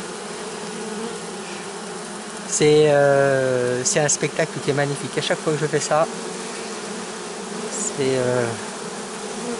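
Steady, dense buzzing of many honeybees throughout, with a person speaking close by over the swarm.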